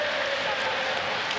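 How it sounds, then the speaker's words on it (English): A football stadium crowd at a Championship match roars and cheers in a dense, sustained wash of noise, steady and loud throughout the brief moment. "listen to that crowd now"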